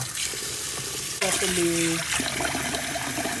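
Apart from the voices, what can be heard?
washing rice in a pot with water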